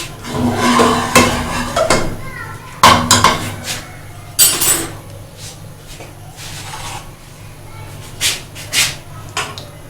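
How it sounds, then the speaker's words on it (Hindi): A spoon stirring a tablespoon of custard powder into two tablespoons of milk in a small dish, with close, uneven clinks and scrapes of metal against the bowl in bursts. "ये मैंने 2 टेबलस्पून दूध लेके इसमें मैं भर के 1 टेबलस्पून कस्टर्ड पाउडर घोल रही हूँ"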